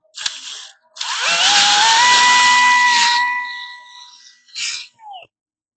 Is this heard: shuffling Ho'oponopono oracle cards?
no